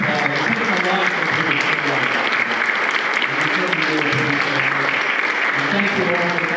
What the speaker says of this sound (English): Give them both a big round of applause